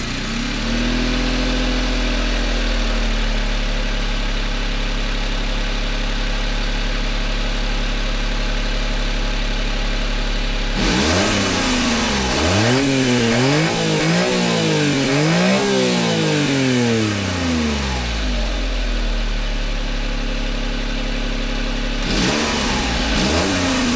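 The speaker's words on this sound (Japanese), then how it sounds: "エンジンをかけてみます。" A small Honda Beat engine with a stock muffler cranks and catches, idles, then revs up and down repeatedly in rising and falling sweeps, close and loud.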